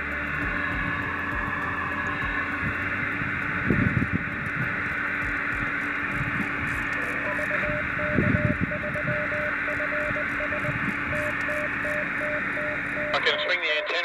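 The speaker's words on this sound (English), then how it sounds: "Beeper is beeping as we speak." A 10 GHz beacon beeper comes through a radio link between Mount Martha and Mt Kororoit as a faint repeating tone over steady radio hiss and hum, with soft background thumps.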